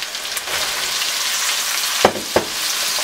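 Broccoli goes into cooked chicken frying in a pan, giving a loud, continuous close-up sizzle with two sharp clatters near the end and no voices.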